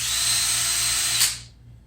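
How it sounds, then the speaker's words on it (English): A power drill bores ferrule holes for guitar strings, whining steadily at high speed for over a second, then spinning down and stopping, leaving a faint hum. "when you're drilling, smaller bit, faster speed, larger bit, slower speed is the rule of thumb"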